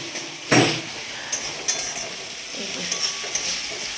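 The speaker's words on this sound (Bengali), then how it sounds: "সেখানে মেজো বোন করছে চিকেন কষা।" Chicken kosha being stirred and fried in a pan, with a loud scrape of a spatula followed by softer clinks and scraping under a continuous sizzle, close by and without talk.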